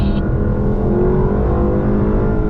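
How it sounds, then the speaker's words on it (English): A Lexus car accelerates hard out of a corner on the Laguna Seca racetrack, its engine roaring loud and steady throughout with a continuous close-up drone and no talk. "Unwind the wheel first, then accelerate out."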